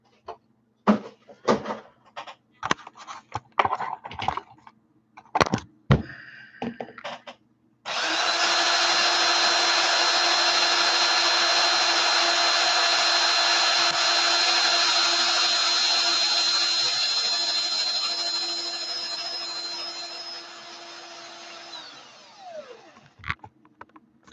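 A power drill whirs steadily for about fifteen seconds, loud and close, then winds down, after a series of sharp clicks and knocks.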